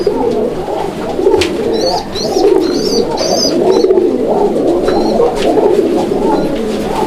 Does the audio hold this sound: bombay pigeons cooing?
yes